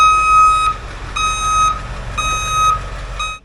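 A bus gives off repeated high electronic reversing beeps, four evenly spaced pulses, loud and close, over a low engine rumble.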